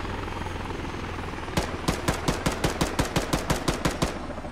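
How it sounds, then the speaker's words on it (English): Inside an ARMA 3 transport helicopter, a steady rotor drone plays with no talk, then a rapid machine-gun burst of about a dozen evenly spaced, sharp shots rings out over the engine. "can you hear me firing the gun?"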